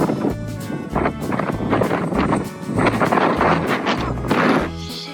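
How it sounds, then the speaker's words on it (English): Strong wind buffets the microphone in heavy, irregular gusts during a drive along the Croatian coast, producing loud low rumbling bursts throughout. "it's windy out"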